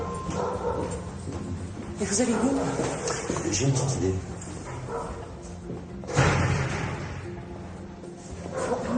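A dog yips and whimpers in short bursts during a scene from a French TV comedy series, partly under people talking in French, with a thump or slam partway through.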